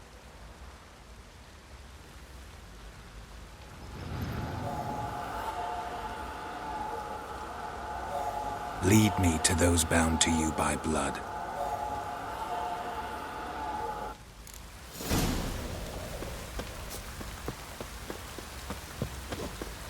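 A steady downpour falls in The Witcher 3: Wild Hunt, a broad hiss of rain that swells louder partway through, with brief game voices and effects over it.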